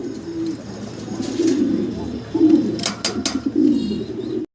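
A pair of Sherazi pigeons at a breeder's loft coo in low, repeated rolling phrases that swell and fade, with a few sharp clicks or knocks near the end and faint background noise.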